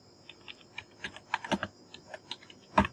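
Computer keyboard typing while entering text in a Canva design editor, a run of quick irregular key clicks with a few louder taps, close and alone.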